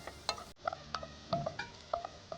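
Food stirred and roasted in a pan on a stove, a spoon scraping and tapping the metal in quick irregular strokes over a soft sizzle, close and clear.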